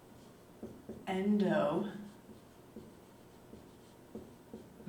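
Handwriting notes with a marker in a lecture, faint squeaky strokes in short bursts around a spoken word, with quiet scratching continuing afterward.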